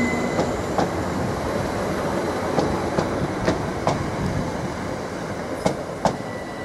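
A class 387 electric train, unit 387-108, moving through Ely station, with a steady rumbling roar of wheels and carriages and regular clicking rail joints, loud and close throughout with no talking.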